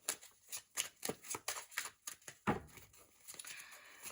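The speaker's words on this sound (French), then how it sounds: "on va replacer ces petites cartes un petit peu plus haut" Tarot cards are moved and shuffled on a table, giving a quick series of close, crisp papery slaps and riffles, roughly a dozen soft taps followed by a longer sliding shuffle, with no one talking.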